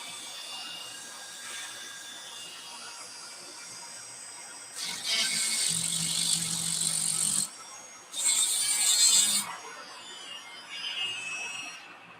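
A Dremel rotary tool cleans the ends of old model train track in several loud, high-pitched whirring bursts of a few seconds each, separated by quieter pauses, close to the microphone.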